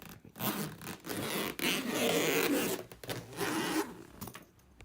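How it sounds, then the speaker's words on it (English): Zipper pulled up on clothing, heard as several close, scratchy zipping strokes in bursts of rasping friction with short pauses between them. "I can officially zip up"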